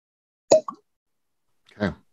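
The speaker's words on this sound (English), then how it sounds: "Not much of a cork pop usually these, but let's see what happens." A cork pulls from a bottle of bourbon with one short, close, hollow pop, followed a moment later by a brief soft slosh of liquid.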